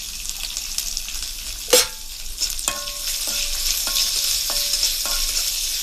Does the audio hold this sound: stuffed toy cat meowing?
no